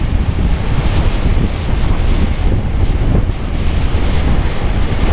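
Steady wind roars across the microphone on an early morning motorcycle ride, a loud, continuous buffeting rush that drowns out everything else with no voices heard.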